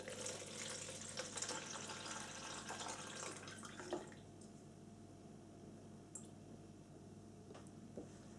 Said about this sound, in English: So I'm going to start by tipping in all of the cochineal water.